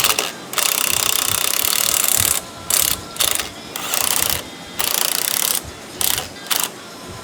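Ratchet wrench clicking in repeated bursts with short pauses while the three top nuts are run onto a strut during a Mercedes CL 55 front suspension conversion kit install; loud, close and alone.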